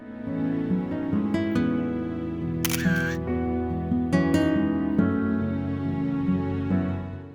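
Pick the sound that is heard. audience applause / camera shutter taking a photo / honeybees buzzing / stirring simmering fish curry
camera shutter taking a photo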